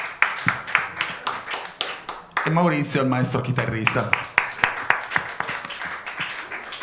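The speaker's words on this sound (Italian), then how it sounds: "Applauso." Studio audience claps rhythmically for band members on a talk show, distinct hand claps repeating throughout while someone speaks over them in the middle.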